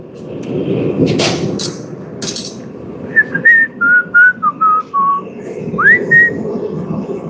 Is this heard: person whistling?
yes